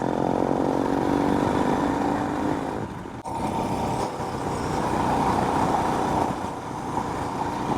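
An ADV motorcycle rides a winding road, its engine and wind rumbling steadily and loudly the whole way, with a brief dip in the middle and no voices over it.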